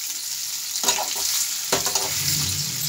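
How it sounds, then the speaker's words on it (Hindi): Potatoes frying in a pan and being stirred, a steady sizzle with two distinct scraping stirs of a spoon through the pieces, close and clear with no talk. "सारे आलू ऐसे मैं पैन में डाल देते हैं। इनको अच्छी तरह से ऐसे मिक्स कर देते हैं।"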